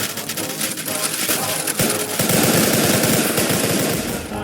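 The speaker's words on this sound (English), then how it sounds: "then shots erupted through the square" Gunfire erupting across a square in a Beer Hall Putsch reenactment: dense rapid volleys of shots, loud and continuous, intensifying into a sustained clattering barrage in the second half.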